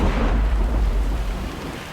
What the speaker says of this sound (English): Thunder cracked.